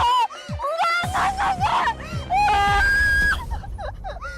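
A woman screams and wails at night in a ghostly scene, her voice rising and breaking into sobbing cries in repeated bursts, loud and close, with no talk over it.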